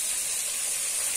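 Tomatoes hit a pan of fried onions over a medium gas flame while cooking baingan bharta, giving a steady, close, bright hiss of sizzling that holds evenly for about a second with no voices.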